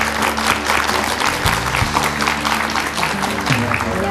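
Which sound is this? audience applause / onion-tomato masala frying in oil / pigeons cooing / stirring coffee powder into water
audience applause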